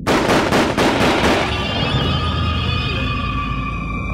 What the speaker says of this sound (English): A short time later, gunshots ring out from the schoolhouse.